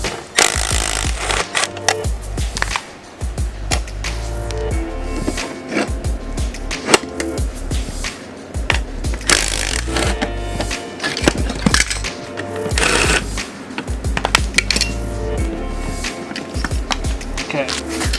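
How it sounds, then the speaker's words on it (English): Rapid ratcheting and metallic clanks sound close up as bolts come out of Mazda Miata seat rails on a car seat, in bursts of quick clicking with short pauses between them. "I'm gonna unbolt these real quick and see how close they are to lining up"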